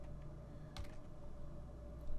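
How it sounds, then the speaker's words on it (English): A title typed on a computer keyboard: quiet, quick key clicks over a low steady hum, with no talking. "I'll just start typing in some type of title here."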